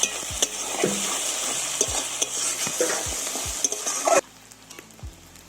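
Garlic and ginger paste frying lightly in a pan for a fish-head moong dal, heard as a loud, continuous sizzle with repeated scraping stirs. The sizzle cuts off abruptly near the end, leaving a few quieter taps.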